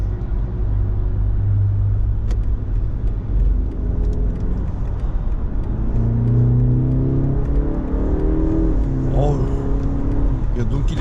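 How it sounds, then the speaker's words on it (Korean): A 2024 BMW 530i M-Sport with a 48V mild-hybrid system accelerates hard in boost mode on a snowy road, heard from inside as a loud, steady engine drone that rises in pitch across the run, with a person talking over it. "한번 부스트 모드 상태에서 가속을 한번 해보도록 하겠습니다."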